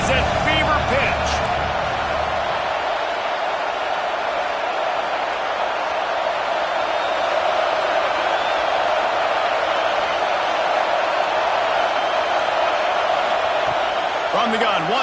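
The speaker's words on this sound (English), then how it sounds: "this crowd is at fever pitch" A football stadium crowd roars loudly and steadily during a third-down play in the red zone, a continuous wash of cheering with a commentator talking over it throughout.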